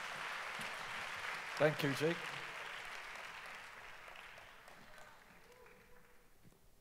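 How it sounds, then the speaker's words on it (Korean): Audience applause welcomes a speaker at a Korean worship conference session, a moderate clapping wash that gradually fades as someone briefly speaks over it. "네, 우리 박수로 환영하겠습니다"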